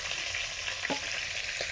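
Tuna fish frying in mustard oil in a pan, a loud close continuous sizzle with a few brief clinks of stirring, no voices.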